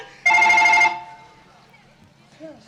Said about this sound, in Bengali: বারবার ফোনটা করছে।